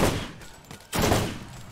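Two loud gunfire bursts from a weapon in the Borderlands shooter game, each a short broadband blast separated by a brief gap.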